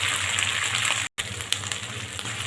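Chopped onions frying in a pan, a continuous broadband sizzle that holds steady throughout, broken only by a brief silent dropout near the middle before resuming.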